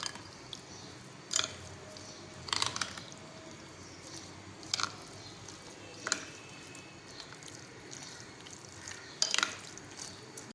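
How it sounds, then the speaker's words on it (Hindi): Meat being mixed by hand with onion, yogurt, ginger-garlic paste, raw papaya and spices for tikka boti, giving soft wet squishing and squelching sounds in a few short bursts over quiet background. "और अब इन सब को अच्छे से मिक्स करेंगे।"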